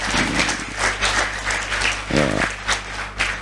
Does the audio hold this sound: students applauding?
yes